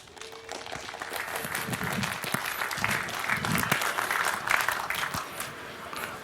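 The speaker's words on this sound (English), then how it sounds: "So I would like to hear a warm round of applause for Reticulum, Unstoppable Networks for the People by Mark." An audience claps for a talk on Reticulum, a people's networking project. The applause swells into a dense, sustained patter and then slowly thins toward the end.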